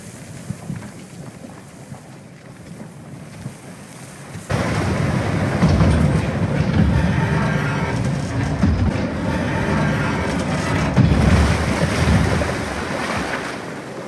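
A broad, steady rush of draining lake water from opened sluice gates fills the scene in the Evil West game, stepping up abruptly to a loud, continuous roar with no talk.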